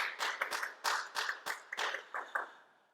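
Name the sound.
congregation applause in worship service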